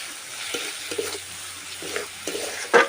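Ground spices frying in a pan over low heat for an egg curry, a soft continuous sizzle punctuated by several short stirring scrapes and taps, close, with no talking.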